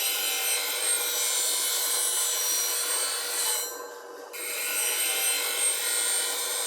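A bench grinder wheel grinding the heel of a steel D-Way bowl gouge, a steady close hiss that dips briefly midway as the tool lifts off before the grinding resumes, with no talk.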